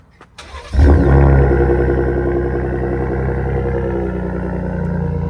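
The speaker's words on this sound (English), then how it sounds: "Let's hear what she sounds like." A truck engine cranks and fires up, then settles into a deep, steady exhaust rumble at idle, fairly loud and close.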